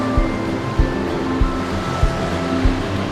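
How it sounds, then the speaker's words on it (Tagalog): Ocean surf rushes steadily against a rocky shore in Quezon, Philippines, with a broad wash of water and wind, and a low thump recurs about every half second underneath. "Sarap pagmasdan ng mga alon."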